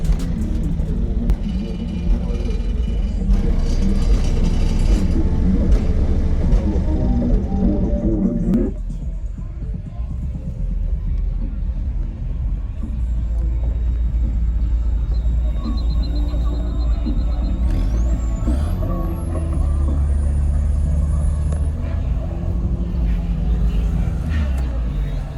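Four 18-inch subwoofers in a car pound out loud, continuous deep bass with heavy low rumble throughout, briefly dropping then resuming, while people talk nearby.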